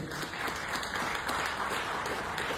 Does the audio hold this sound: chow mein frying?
no